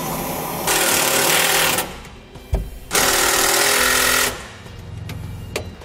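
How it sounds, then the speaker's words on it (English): A power drill drives a self-tapping screw into metal while mounting an ATV winch, with two loud sustained whirring bursts separated by a clunk, then quieter handling noise. "I'm gonna be using a self-tapping screw and just screwing into the metal right here."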